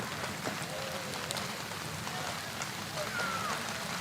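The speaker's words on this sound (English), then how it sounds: "as the rain picks up again" Rain falling during an outdoor high school baseball game, a steady hiss of drops spread across the whole clip at moderate level, with faint scattered background sounds and no clear talk.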